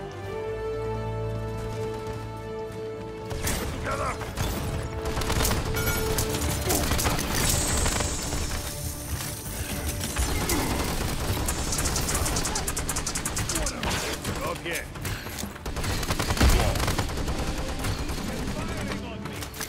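Rapid gunfire bursts and fusillades from the video game Paladins crackle in dense volleys, mixed with game effects and music while a player talks over the action.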